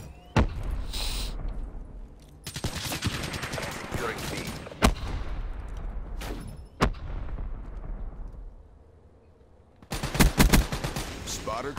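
Bursts of light machine gun fire in Call of Duty Black Ops 3, sharp rapid volleys with gaps between them, loud and close, some in longer strings and others short, over a low game background.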